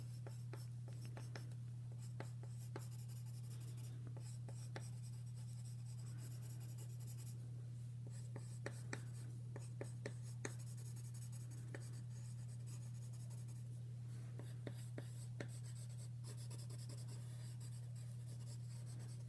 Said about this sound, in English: So I'm going to fill in hearts with some color pencil.